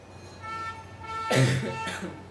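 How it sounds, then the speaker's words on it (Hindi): A single harsh cough from someone speaking over a quiet background hum, followed by a fainter second cough; no other sound stands out. "Sorry for the inconvenience of my voice, खांसी हुई थोड़ी सी।"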